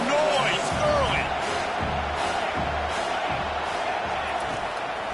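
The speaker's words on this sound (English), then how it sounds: "This crowd bringing the energy and noise early." A football crowd roars and cheers early in a game, a dense, steady wash of noise with a few whoops near the start. Beneath it, low rhythmic thuds pulse at a regular pace.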